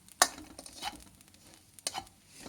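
Coconut dry-roasting in a pan for laddu, with soft scraping stirs and two sharp spatula scrapes against the metal over a faint, quiet sizzle.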